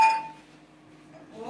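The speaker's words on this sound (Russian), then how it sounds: "Берем посуду." Dishes clink as they are picked up at home while a birthday table is being set: a bright ring at the start that fades, then softer clatter near the end, with no talk.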